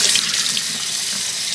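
Kitchen tap water runs steadily over a whole store-bought duck being rinsed in the sink, a close, continuous splashing hiss with no voices.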